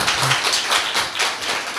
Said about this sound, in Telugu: అందరూ కూడా చప్పట్లు కొట్టి దేవుని మహింపరచుదాం